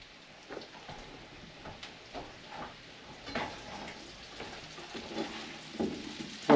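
Potatoes frying in a pan for a breakfast casserole, a soft steady sizzle broken by scattered crackles and pops, close and alone without talk.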